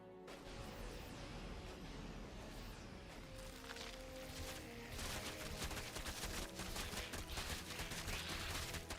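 Rapid, dense gunfire from StarCraft 2 units in battle, including Marines and Marauders, crackling as a continuous fusillade that grows busier and louder midway, with no voices.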